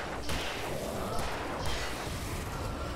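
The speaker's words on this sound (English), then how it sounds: "that gunshot is so loud" Gunfire in the video game Alan Wake Remastered: a few loud, sharp shots burst out one after another over quiet background.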